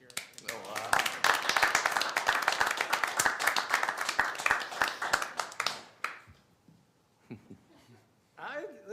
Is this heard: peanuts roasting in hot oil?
no